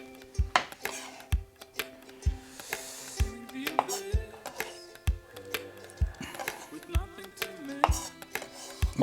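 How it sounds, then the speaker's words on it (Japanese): Boiled egg white being finely minced with a knife gives a run of sharp, fairly loud chops on a board in an uneven rhythm, with clinks of utensils between strokes. "白身のみじん切り"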